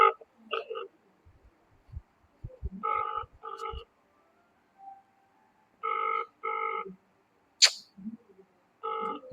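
A phone call placed to a friend goes unanswered, with pairs of tonal ringback buzzes repeating through the earpiece, separated by quiet gaps, brief clicks and handling noises.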